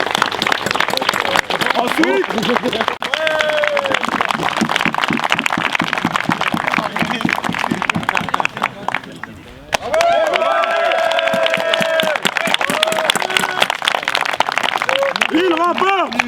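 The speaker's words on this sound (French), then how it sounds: "Pouvez-vous applaudir?" An audience applauding at an immersive Viking combat and glima event, with steady clapping running through most of the stretch and a brief lull partway through, under someone speaking French over a loudspeaker.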